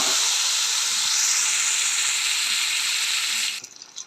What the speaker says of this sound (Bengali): বেগুনটা ভাজা হয়ে গেছে